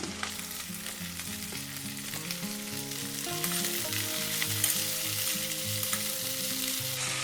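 Onion flower stalks, potatoes and eggplant frying together in a pan, a dense continuous sizzle with stirring scrapes and a few clinks, growing slightly louder midway, close and without voices.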